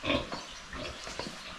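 Sow with a litter of newly born piglets on a Philippine backyard pig farm, giving soft, continuous grunts close by, several short rough snorts overlapping through the brief clip with no talking.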